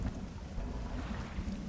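Thunder in the fishing video game Dredge, a low, dull rumble rolling under steady rain noise, continuous and moderately loud with no voices.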